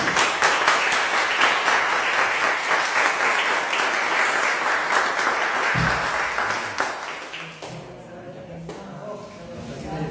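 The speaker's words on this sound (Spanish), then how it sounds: "le damos un aplauso" Audience applause at the closing session of an academic conference, thanking the invited guests, loud and sustained for about seven seconds before fading into a softer scatter of claps.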